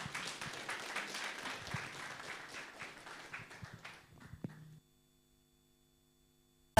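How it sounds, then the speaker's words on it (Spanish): Congregation applause at a Sunday church service, a dense steady clapping that thins out and stops about five seconds in, leaving near silence. "vamos a recibir con fuertes aplausos"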